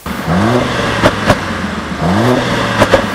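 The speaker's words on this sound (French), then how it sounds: "je voudrais vous faire voir dans cette vidéo un passage d'une vidéo d'une A45 qui fait des proutes" A Mercedes A45 engine gets two quick throttle blips, each a rising rev followed by sharp exhaust pops and crackles, loud and close with no voices.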